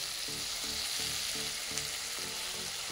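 Okra and onion fry in a pan while being stirred gently, producing a constant soft sizzle and hiss over a rhythmic, pulsing low hum in the background.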